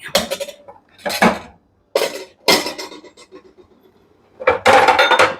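Metal utensils clink against plates and pans in several short bursts while dal is served alongside egg curry, close and fairly loud, with brief pauses between the clatters.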